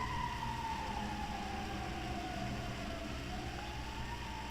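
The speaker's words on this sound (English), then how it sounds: "That is a fire engine outside my window." A fire engine siren wails steadily outside a window, its tone slowly sliding down and then rising again, distant but clear over a constant low background hum, with no voices.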